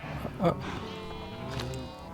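Sheep bleat once, brief and fairly close, in the Minecraft video game, over a steady electronic hum and background tones.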